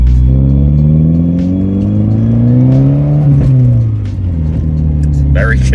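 Nissan Pulsar GTiR engine accelerating as the car pulls away, a loud steady rising drone with a gear change midway and a voice talking over it.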